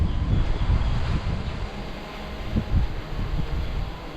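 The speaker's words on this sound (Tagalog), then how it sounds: "And yun nga, nakakatakot ang hangin." Strong wind gusts around an old balete millennium tree in Maria Aurora, a steady, loud, rumbling roar of wind buffeting the microphone that swells and eases throughout with no speech.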